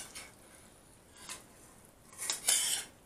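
Cutlery scraping and clinking against pans and plates while roast potatoes and chicken with peppers and sweet corn are served, a few brief metallic scrapes followed by a louder cluster of clatter near the end, close and with no one talking.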